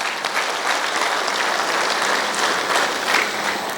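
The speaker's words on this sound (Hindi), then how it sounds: "अच्छा लगे तो ताली बजाना" An audience at a security services session claps steadily, a loud, full burst of many hands that holds level for several seconds with slight swells, no voices on top.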